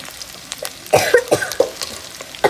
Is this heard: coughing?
yes